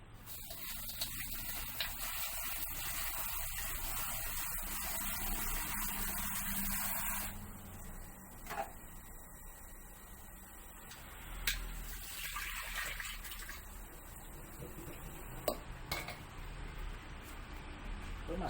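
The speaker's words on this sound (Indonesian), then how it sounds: "kita cuci dulu rempahnya." A packet of ratus spices is washed in water, with running water splashing and gushing from a tap for several seconds before easing into quieter handling and dripping sounds, while a person talks throughout.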